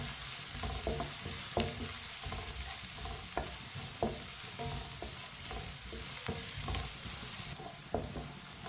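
Onions fry in a pan with a spoon stirring them toward light brown, giving a steady sizzle with regular scraping strokes and soft knocks, close and alone without talk.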